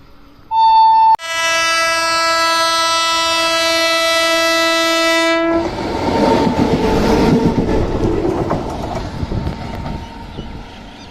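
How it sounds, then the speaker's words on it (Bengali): A loud, sustained electric locomotive horn blasts for several seconds, then gives way to the rumbling roar and rattle of the passing train after it crosses Nasipur bridge toward Azimganj station. "এরকম মাঝে মাঝেই ট্রেন লোকোমোটিভ ইলেকট্রিক লোকোমোটিভ এই লাইন দিয়ে যাওয়া আসা করছে"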